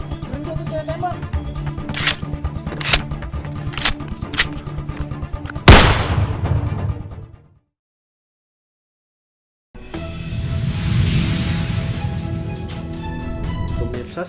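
Several sharp gunshots ring out over a busy background during a police chase after a thief, spaced about a second apart, ending with a louder, longer blast that decays before a stretch of silence and then renewed background noise.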